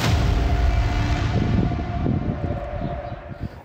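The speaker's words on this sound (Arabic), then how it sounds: "أفادت مصادر محلية بانطلاق صفارات الإنذار في المدينة ومخيمها بعد عملية الاقتحام" Air raid warning sirens sound across Jenin, a city in the occupied West Bank, as a loud sustained wail with a steady droning tone that slowly fades toward the end.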